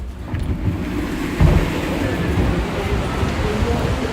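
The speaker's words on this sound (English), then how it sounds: "It's going to be a very windy night too out here" Strong wind roars outdoors on a street corner in New York City on a windy Christmas night, a continuous low rumbling buffet with a heavier gust partway through.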